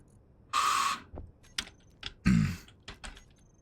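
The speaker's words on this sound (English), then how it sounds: "Unfortunately, the keyboard is a little close, and I also type really, really hard" Hard, heavy typing on a computer keyboard sits close to the microphone, with several loud clattering bursts and separate sharp key strikes spaced irregularly across a quiet background.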